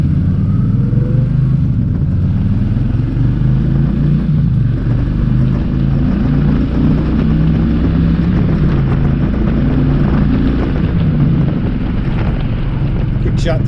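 A motorcycle engine accelerating hard up to about 75 and then easing off, a steady loud rumble with heavy wind buffeting across the whole stretch.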